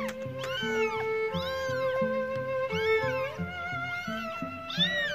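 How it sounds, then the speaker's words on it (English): A kitten scared up on a branch meows loudly and repeatedly, its rising-and-falling cries coming in a steady run of a few calls per second over a low rhythmic musical backing. "It's titled "Kittens Meowing Loudly.""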